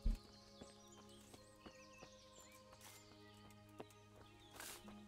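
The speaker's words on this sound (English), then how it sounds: "I think I saw a horse." Horse hooves in the medieval video game Kingdom Come: Deliverance, a faint irregular clip-clop of hoofbeats over a soft game music bed with a low drone and occasional bird-like chirps.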